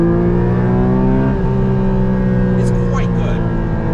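Porsche 718 Spyder engine running at sustained high revs, a loud, close, steady harmonic drone that dips briefly around midway, with faint high chirps near the end.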